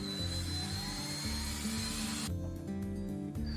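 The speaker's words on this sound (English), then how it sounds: "using your drill, pre-drill the holes with the appropriate drill bit." A power drill pre-drills screw holes in a wall for a TV mount bracket. A high, steady motor whine runs for about two seconds and then stops, over a constant low tonal background.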